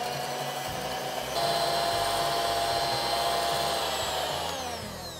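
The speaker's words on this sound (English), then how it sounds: "I'm gonna switch out the attachment on my little hand mixer and get this little whisk" An electric hand mixer fitted with a whisk attachment beats egg whites for Belgian waffles, a steady close whirring drone that rises slightly in pitch and runs continuously without talk.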